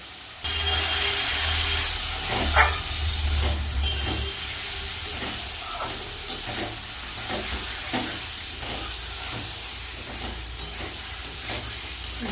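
A spice paste with turmeric and salt being stirred in a pan for a rohu fish curry with potato makes a continuous close sizzle, punctuated by repeated spatula scrapes and taps.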